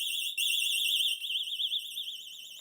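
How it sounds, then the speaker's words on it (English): Loud, continuous warbling wail from a Ubiquiti PoE siren, close and piercing, with a brief dip and then slight fluctuations in level as it keeps sounding without any voices. "Now let's test the siren."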